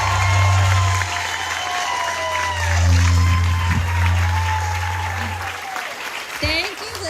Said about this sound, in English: So if you can please join me in giving a round of applause to Jen Spugnardi.